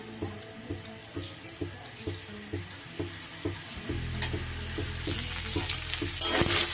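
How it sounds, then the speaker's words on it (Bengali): Soaked rice for hilsa pulao fries in a pan, with rhythmic stirring scrapes first, then a louder, steady sizzle and hiss that builds toward the end, close up and without speech. "চালটা কিন্তু আমার সুন্দরভাবে ভাজা হয়ে গেছে, দেখতেই পাচ্ছেন। আওয়াজটাও বদলে গেছে।"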